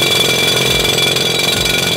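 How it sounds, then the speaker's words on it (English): An electric drilling machine bores into rock inside a mine tunnel, giving a loud, steady, grinding roar with a faint rhythmic pulsing, close by and unbroken for the whole span. "They are about to begin drilling."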